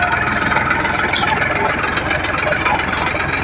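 A tractor engine runs steadily as it drives across farm fields, a continuous loud mid-low drone with rattling throughout and no break.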